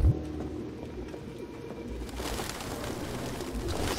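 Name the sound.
pigeons cooing in the video game Detroit: Become Human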